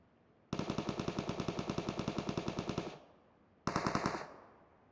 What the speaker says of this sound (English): You got somebody shooting at you, Colin.